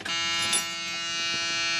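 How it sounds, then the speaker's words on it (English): A continuous electronic warning buzzer in a 1977 Ford LTD Landau drones at a steady pitch, loud and close, with no talking. "Buzzer."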